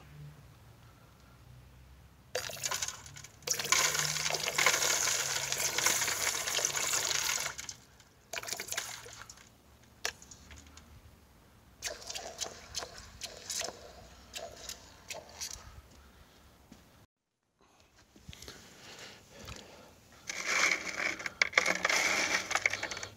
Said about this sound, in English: We'll pour it in the water.